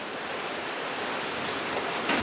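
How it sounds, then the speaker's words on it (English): Strong gusts from Hurricane Wilma roar as a steady, loud wash of wind noise that swells slightly toward the end, with no voices. "These gusts are just incredibly strong"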